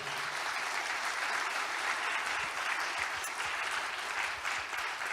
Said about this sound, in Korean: 그러니까 박수 한번 보내주시기 바랍니다